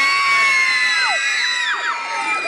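Children in an audience at a theme park opening scream together, a loud, sustained, high-pitched chorus of shrieks with voices rising and falling throughout.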